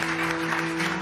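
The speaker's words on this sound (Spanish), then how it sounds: "Solo se rompieron por los aplausos de varios periodistas acreditados en una abarrotada sala de prensa" Steady applause from accredited journalists fills a packed press room, a dense continuous patter of clapping at moderate level with a faint hum underneath.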